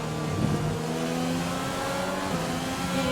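A Renault-powered Formula 1 car in the F1 2020 video game drones and revs steadily, a continuous engine note with slowly shifting pitch, loud and alone without talk.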